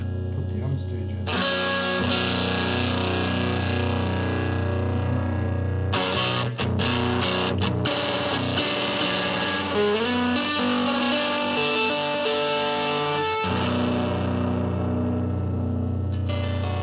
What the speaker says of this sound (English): rumbly type of distortion, which could have some uses on its own